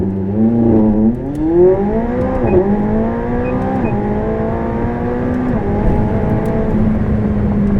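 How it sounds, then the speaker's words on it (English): A 2016 McLaren 675LT, twin-turbo V8, launches at full throttle: a loud, close engine roar climbs through rising revs with quick upshifts, pitch dropping and climbing again in steady pulls, with no talking. "press the launch button. It says launch mode active, floor it, and then you dump"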